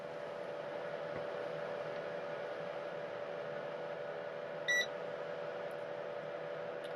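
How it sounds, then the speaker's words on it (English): A digital multimeter gives one short, bright electronic beep as it switches on, near and clear, over a low steady hum from an amplifier on the bench; no one speaks. "that beep was the meter turning on"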